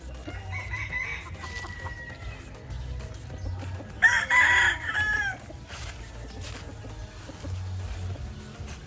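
A broodcock rooster on a farm crows once, clear and fairly close, amid quiet background farmyard sounds and faint clucking.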